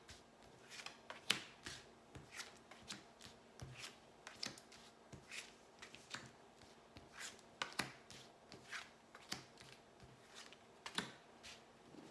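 Tarot cards shuffled by hand for a reading, a string of quiet papery riffles and soft taps in an irregular rhythm, close and faint, with no voices.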